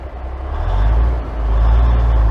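A fire truck rolls to a stop with its brake applied, a deep, loud engine rumble and low road roar swelling and holding close by, with no talk.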